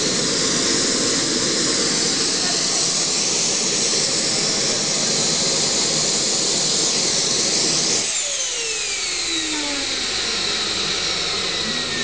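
Behotec J66 micro jet turbine roaring loudly at a steady high pitch, then shutting down after about eight seconds as the whine falls away and the spooling turbine winds down with a descending tone.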